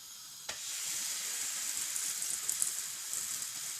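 Msemen, a Moroccan flatbread crepe, sizzles steadily in a hot pan, a continuous close frying hiss with a brief tap as the dough goes in near the start.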